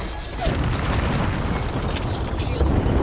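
A grenade goes off in Apex Legends as a loud, close boom followed by a rumbling roar, with a second burst near the end and in-game chatter in the background.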